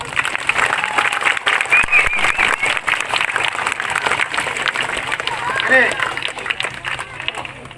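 A street crowd claps for a magician performing the Indian mango tree trick, giving dense, sustained applause that stays loud and steady throughout, with a voice briefly audible among the clapping.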